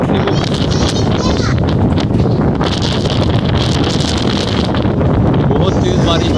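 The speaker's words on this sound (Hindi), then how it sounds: "बहुत तेज बारिश आ रही है भाई आंधी लग रही है" Loud, constant wind roars and buffets the microphone, with a dense hiss throughout from heavy rain in a storm; a voice is faintly audible underneath.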